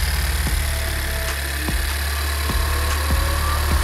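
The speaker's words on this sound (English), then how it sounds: "The compressor just kicked on." A 10th-generation Honda car's AC compressor running with the engine idling, a steady low mechanical drone marked by regular clicking knocks about every second, close and loud.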